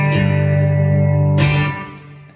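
An electric guitar plays a lick without a B-bender, a chord that rings steadily, then a fresh bright attack that sustains and fades out, clean and close with no talking.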